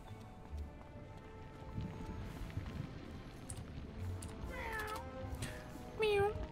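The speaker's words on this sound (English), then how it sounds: "Fire kitty!" In the Wizard101 video game, a fire cat spell is summoned with a couple of meow-like cries near the end, over soft footstep-like clatter and ambient game sound.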